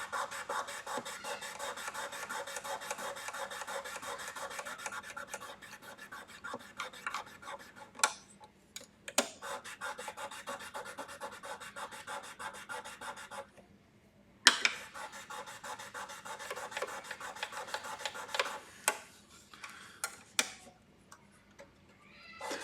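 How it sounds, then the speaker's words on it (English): Guitar frets on an old Washburn EA10N acoustic-electric are polished by hand with microfiber polishing paper, giving quick, close, rhythmic rubbing strokes in bursts separated by short pauses, with faint ticks in between. "We use these microfiber polishing papers."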